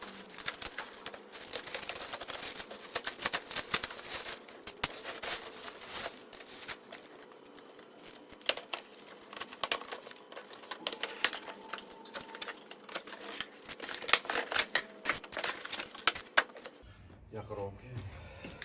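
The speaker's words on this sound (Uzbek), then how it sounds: "Yangi kelgan romlarimizni hozir upakovkani ochamiz," Newly delivered frames are unpacked from their packaging, with close rustling, crinkling and tearing of wrap and scattered sharp taps and knocks running on, then stopping abruptly near the end.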